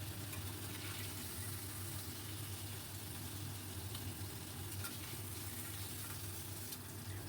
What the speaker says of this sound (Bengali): কিউবের আকারে কেটে রাখা পনিরগুলোকে একটু ভেজে নেব। খুব কড়া করে ভাজবো না, মোটামুটি অল্প এদিক ওদিক নাড়িয়ে অল্প একটু রং ধরা পর্যন্ত ভেজে নেব।